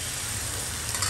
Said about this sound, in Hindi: फिर हम डाल देंगे एक चम्मच ऑमलेट